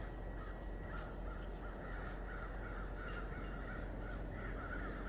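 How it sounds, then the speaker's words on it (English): Several crows caw repeatedly from a distance outdoors at a shooting range, their calls spaced through a steady, loud background hiss of wind or open-air noise. "Don't know what the birds want, but they are definitely talking."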